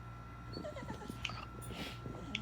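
A dog in the game Fallout 76 whimpers and cries in short, high, wavering whines over a steady low hum and soft background noise.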